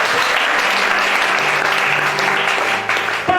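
Sustained applause from an audience at a religious gathering, dense steady clapping that fills the whole stretch with a faint voice near the end.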